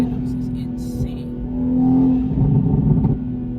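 A Toyota A90 Supra, not stock, with a titanium single-exit exhaust and a cold air intake, rumbles with a steady deep engine tone that swells briefly in a rev and settles, close and loud, with no voices.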